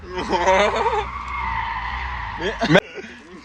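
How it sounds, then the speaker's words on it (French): Tires on a Volkswagen Polo GTI squeal continuously as it spins handbrake donuts in a parking lot. The screech is loud and sustained, voices talk over it, and it cuts off with a sharp click near the end. "Le gars, il prend la Polo GTI pour faire des ronds, genre des freins à main, dans un parking."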